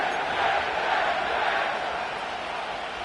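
A dense stadium crowd roars steadily inside MetLife Stadium in East Rutherford, New Jersey, in the Madden 25 football video game, a broad, continuous wash of cheering that stays loud throughout with no clear voices standing out.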